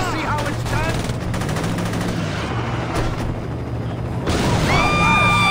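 Rapid bursts of gunfire in the Saints Row video game, crackling continuously in a dense volley with a loud rise near the end, mixed with game effects and voices.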